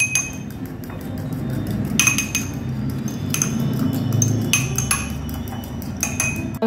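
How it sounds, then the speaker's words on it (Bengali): Egg with salt beaten in a bowl, a utensil clinking rapidly and repeatedly against the side in short bursts, close and continuous with no speech. "বিট করে নেব।"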